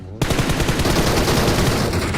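Rapid, continuous automatic gunfire from an M416 rifle in the PUBG Mobile game, loud and dense throughout after an abrupt start, with no talking over it.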